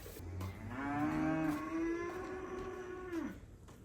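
A cow lets out one long, loud, close moo lasting about three seconds during a morning feeding of fodder, with no voices.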